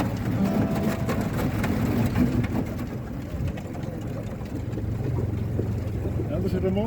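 A motorboat engine drones steadily and close throughout, a constant low rumble with wind noise over the microphone and people talking in Dutch above it.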